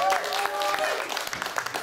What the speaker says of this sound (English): Another round of applause for Tony and Amy